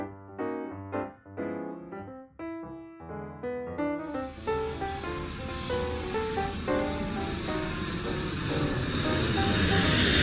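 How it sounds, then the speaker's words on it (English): An airplane sound in a kids' toy alphabet video, opening with a short musical jingle that gives way to a rising, roaring aircraft engine whoosh that grows louder toward the end. "Airplane."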